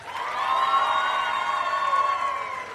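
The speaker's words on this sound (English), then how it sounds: "Give yourselves a round of applause for that." Crowd of students at a national science and technology exhibition in Kenya cheers and applauds together, a sustained roar of voices and clapping that holds for a few seconds.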